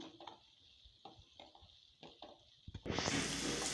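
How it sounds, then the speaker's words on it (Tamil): Poppy seeds, cinnamon and cloves being sautéed in a pan for a Kovai-style tomato kuzhambu: a few soft stirring scrapes, then a sudden loud, steady sizzle as the spices hit the hot oil. "கசகசா சேர்த்துட்டு ரெண்டு பட்டை ஒரு மூணு லவங்கம் சேர்த்துக்கோங்க இப்போ கொஞ்சம் நல்லா வதக்கிக்கலாம்"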